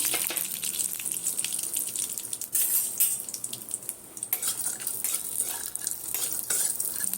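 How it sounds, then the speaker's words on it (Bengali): Chopped cashews frying in ghee in a kadai while a spoon stirs them: continuous close sizzling with scraping and clinks of the spoon against the pan, fairly loud and without talk. "ঘিয়ের মধ্যে এগুলোকে একটু নাড়িয়ে দিচ্ছি।"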